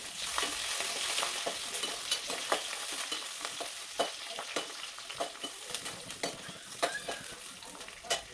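Garlic frying in a pan while being stirred, a soft continuous sizzle punctuated by repeated clicks and scrapes of a spatula, fairly faint and close.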